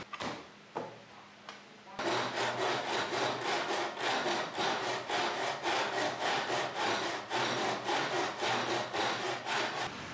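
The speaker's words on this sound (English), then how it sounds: "I have to saw and plane the planks to hopefully straighten them out." A handsaw cuts through reclaimed white wooden planks, steady rhythmic rasping strokes close by after a couple of light knocks at the start.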